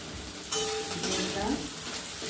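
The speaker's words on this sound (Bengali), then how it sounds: "এবার রসুন বাটা, আদা বাটা আর ক্যাপসিকাম কুচি আর কাঁচা লঙ্কা ছেঁড়া" Garlic paste, ginger paste, chopped capsicum and torn green chilies hit hot oil with fried onion for a village mutton curry, bursting into a sudden loud sizzle with stirring scrapes.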